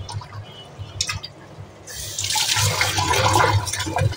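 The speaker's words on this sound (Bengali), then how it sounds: "ডালটা ধুয়ে নেই" Lentils (dal) washed in water by hand, with a few scattered drips and splashes at first, then a steady loud run of sloshing, swirling water close by, with no talk.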